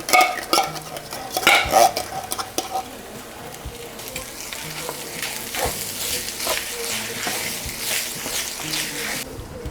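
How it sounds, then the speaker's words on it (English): Canned cream of mushroom soup is stirred into browned meat in a pan, giving a soft sizzle with wet scraping and the occasional clink of a utensil, close and steady, with a few louder knocks near the start. "I'm going to add in my can of cream of mushroom soup"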